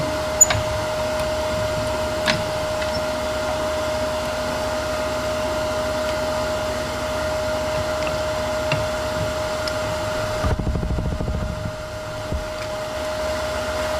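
Wood lathe spinning a small piece held in a chuck while a thin parting tool cuts into it, giving a steady motor hum with a constant tone, a rough scraping texture and a brief change near the end.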